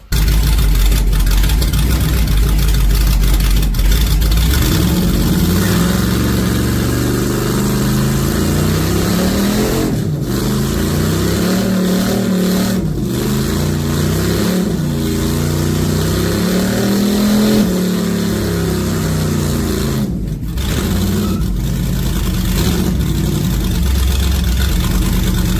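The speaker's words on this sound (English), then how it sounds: "We're gonna try doing a burnout" A car does a burnout inside a shop, its engine loud and close, rising into repeated revs with wavering pitch, short drops between pushes and a rough steady roar underneath.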